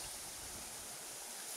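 Waterfall at Kawa Falls in Antipolo City, a steady dense roar of falling water, constant and even with no pauses.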